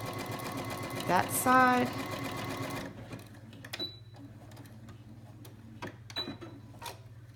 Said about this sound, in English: So back stitch that really quickly and come down